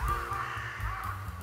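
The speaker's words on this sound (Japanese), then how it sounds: "カラス超うるさいんだけど。" Crows caw in the countryside, a few harsh calls close together, moderately near and carrying clearly over quiet surroundings.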